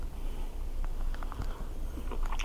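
A thin-cut Black Angus top blade beef steak, cooked to about medium, is chewed close to the mic. Soft, moist bites and mastication repeat irregularly over a low background hum.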